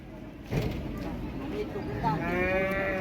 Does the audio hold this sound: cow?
yes